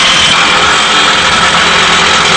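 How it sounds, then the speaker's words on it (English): Electric jackhammer pounding at an archaeological excavation site, a loud, dense, continuous mechanical roar close by with no pauses and no voices. "As you hear the electric jackhammer"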